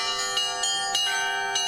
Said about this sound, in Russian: фестиваль колокольного звона